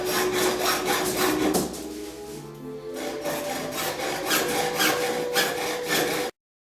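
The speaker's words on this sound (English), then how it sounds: "we're just going to cut this with a hacksaw" A hacksaw cuts through plastic pipe like PVC in close, rhythmic rasping back-and-forth strokes, pausing briefly midway before resuming and ending abruptly.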